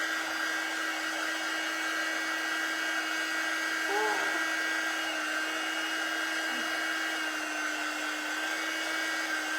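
A handheld dryer blows steady, even airflow over fabric printed with color-changing ink, a constant whirring hiss that runs loud and close for the whole stretch with no talk over it.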